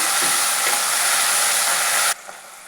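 Mint leaves sizzling in hot oil in a pan make a steady, loud, broadband hiss that cuts off abruptly near the end, leaving a quieter background.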